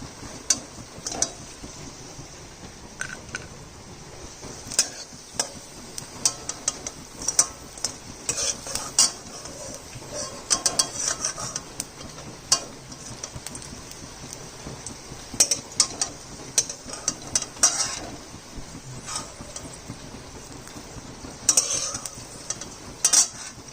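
Okra fritters frying in oil, a steady sizzle broken by frequent sharp clinks and scrapes of a spatula or slotted spoon lifting pieces out, close and without talk.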